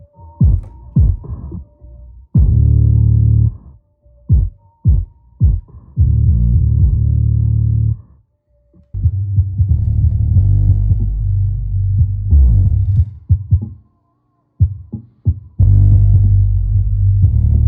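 Deep subwoofer bass thumps in bursts from a car audio setup driven by a small 150-watt amplifier running off an Xbox power supply, with loud booming notes and short gaps between passages.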